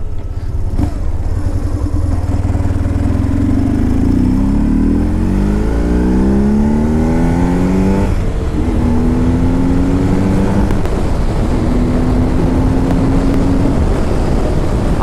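A 2004 BMW R1150GS Adventure motorcycle under way, its engine droning loud and steady throughout, with the pitch climbing as it accelerates through the gears, then settling into a cruising hum mixed with road and wind noise.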